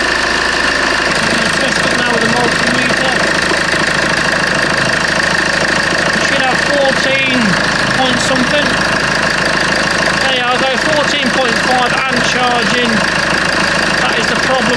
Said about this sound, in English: If the car's running, so you might not be able to hear me